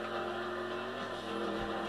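A 5.0 Mustang driven in GTA V Online, a faint steady engine drone with a rough low rumble, continuous throughout the brief stretch with no talking.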